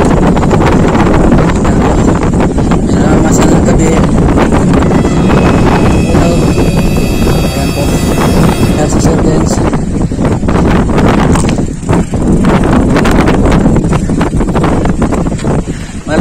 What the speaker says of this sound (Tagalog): Malamig dito, mahangin.